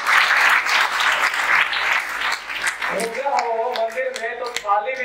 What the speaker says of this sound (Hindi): परफॉर्मेंस हो एनजीपी में तो ताली भी बजाइए